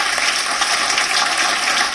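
Dense, steady applause from a large audience at a Hindi poetry recital, loud and continuous for the full two seconds with no voices over it.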